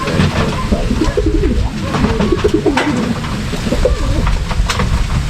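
Racing pigeons at a derby loft cooing, several birds calling close by in overlapping soft coos over a steady rustling background, with no talk.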